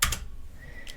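A few quick computer keyboard keystrokes, ending in a press of the enter key, sound close and crisp during setup of a Raspberry Pi photo frame, with short clicks spaced apart and no voices.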